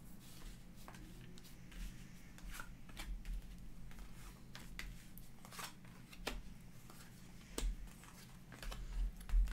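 Tarot cards shuffled for a reading, a soft run of close, quiet riffling and card snaps with scattered crisp clicks over a low steady background hum.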